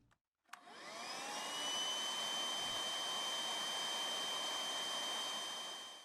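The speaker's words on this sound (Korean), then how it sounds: "슈퍼맨의 집안에서는 하루 종일 청소기 돌아가는 소리가 들렸습니다" A household vacuum cleaner starts with a click and spins up into a steady, loud whine that holds evenly before tapering at the end, with no voices.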